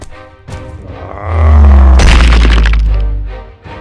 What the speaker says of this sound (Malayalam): രണ്ടുപേരുടെ ഇടയിലും ഫയറിംഗ് ആരംഭിക്കുന്നു.